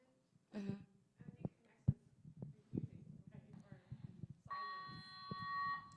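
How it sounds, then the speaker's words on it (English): A building fire alarm, later announced as false, sounds a steady multi-tone electronic buzz that begins partway through, following a stretch of conversation and clatter with people talking nearby. "The fire alarm that you just heard was a false alarm."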